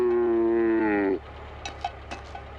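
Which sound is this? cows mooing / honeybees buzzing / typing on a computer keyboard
cows mooing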